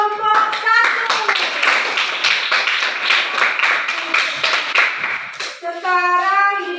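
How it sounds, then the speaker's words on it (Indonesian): A classroom of children claps in unison for a group of pupils, loud rhythmic clapping close by, with a teacher's voice heard before and after the claps. "tepuk tangan buat kelompok 1."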